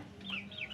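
A pair of three-month-old Mangon chickens cluck softly in a pen, giving a short, close rising-and-falling call over a low, steady background hum.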